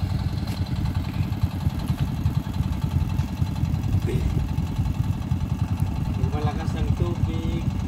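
Honda motorcycle engines idle steadily on river rafts at a crossing in Luba, Abra, a continuous low rumble close by with occasional faint voices over it.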